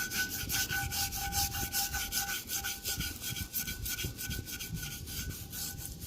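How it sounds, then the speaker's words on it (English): Rust is scrubbed off a cast iron Dutch oven after a vinegar and baking soda soak, producing a steady run of quiet, rhythmic rubbing strokes close by, continuous throughout without speech. "I'm going to go ahead on and finish scrubbing this first layer off"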